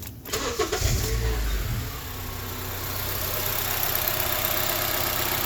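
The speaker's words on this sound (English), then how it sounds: "I'm gonna start the car, make sure it runs smooth." A Honda CR-V cranks briefly and fires up after an ignition coil misfire repair, then settles into a smooth, steady idle close by with no other sounds.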